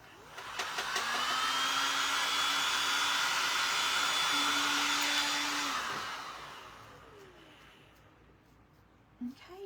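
A handheld dryer blowing on freshly painted gingerbread ornaments, a steady whining hum running for several seconds before winding down and fading, close and fairly loud.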